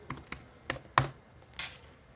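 Several quiet, close keystrokes on a computer keyboard as a password is entered, sparse irregular clicks with short pauses, no talk.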